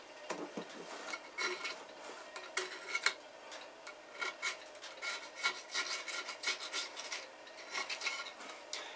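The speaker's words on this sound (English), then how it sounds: "scrape it basically the same as if you were shaving with it" Blade scraping harvested sea salt off a surface, a close, gritty rasping in short repeated strokes, fairly quiet and uneven, with no voices.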